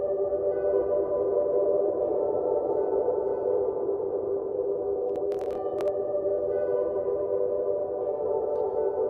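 Shimmer reverb from an iOS room reverb app produces a sustained, bright, layered tonal wash that holds steady and fairly quiet, with a few faint clicks partway through.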